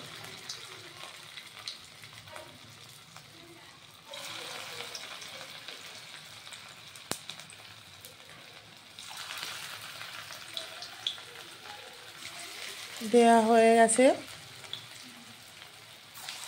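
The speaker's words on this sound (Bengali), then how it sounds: "তো এখানে আমি রাইস ব্রান অয়েল দিয়ে দিলাম, দিয়ে এইবার বড়াটা ভাজবো।" Mashed maan kochu taro fritters fry in hot rice bran oil. A soft, steady sizzle swells louder as more fritters go in, with a brief voice speaking near the end.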